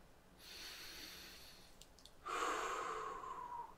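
A slow breath during a calm guided relaxation: a soft inhale, a short pause, then a louder, breathy exhale close to the ear, heard alone.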